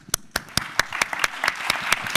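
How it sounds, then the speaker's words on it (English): An audience claps in applause, with sharp individual claps quickly thickening into a steady burst of clapping. "So a round of applause."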